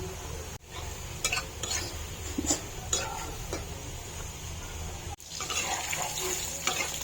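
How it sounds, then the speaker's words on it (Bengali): Oil sizzles steadily as french fries fry, with scattered crackles and the clatter of stirring in a pan, close by, with no talking. "আমি এখানে হালকা করে আগে ভেজে নিছি পরে এটা আবার ভাজবো"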